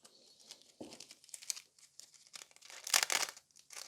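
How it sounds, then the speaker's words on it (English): Silver transfer foil for nail art crinkles and crackles in bursts over a few seconds, close up and crisp, with sharper rustles growing louder near the end and no talking. "Silver transfer foil."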